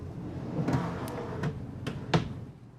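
Small drawers in a 2026 Newmar Dutch Star 4340 motorhome are opened and shut with several light wooden clicks and thumps, the last one the loudest, close by in a quiet interior.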